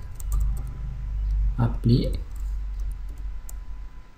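Computer keyboard typing as an Excel VBA script is entered, a few soft clicks mixed with short spoken remarks over a steady low background hum.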